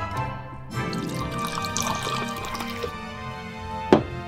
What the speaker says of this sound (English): And a little bit of a long pour from it.